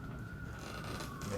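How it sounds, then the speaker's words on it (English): Emergency vehicle sirens sound outside as a steady, continuous wail that stays muffled and moderately distant the whole time, with no talking. "we're gonna have a bunch of sirens in a second"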